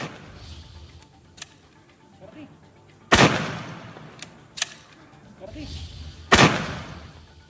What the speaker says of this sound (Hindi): इस शख्स ने अपने घर के ही गार्डन एरिया में खड़े होकर के बंदूक से हवाई फायरिंग की